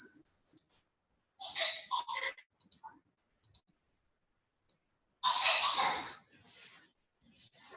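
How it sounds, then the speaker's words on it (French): A child coughs a few times indoors in two short bursts, with quiet gaps and faint clicks between them. "J'ai mon fils qui tousse."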